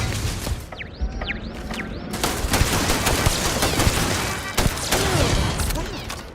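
Turrets fire in the game Starfield, with rapid, sharp gunshot bursts crackling close, broken by falling whistling tones early on, and then a thick stream of shots under scattered loud cracks.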